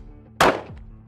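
A single sharp gunshot fired in aimed shot-by-shot shooting practice with a high, aggressive grip; one loud report with a brief echo and tail, then quiet.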